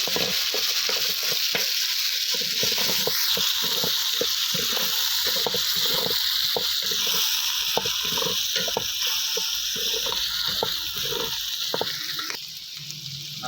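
Potatoes, carrots and peas frying in a pan for matar pulao, with a loud, steady, close sizzle and frequent rhythmic scraping and clattering from the stirring spoon, and no voices.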